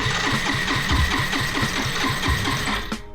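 A Yamaha Riva 125 scooter engine catches and runs for a few seconds, a rapid even putter close by, then cuts off abruptly at the end.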